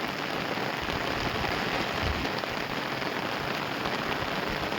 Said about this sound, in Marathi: पाऊस जोरात चालू आहे